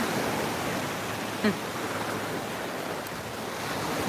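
Steady ocean surf washing onto the beach at Deerfield Pier at sunset, a continuous broad hiss of breaking waves with light wind on the microphone and no talking.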